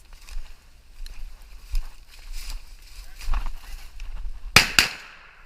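Two sharp, loud gunshots crack in quick succession near the end of a rabbit hunt outdoors, following a stretch of quiet rustling and footsteps.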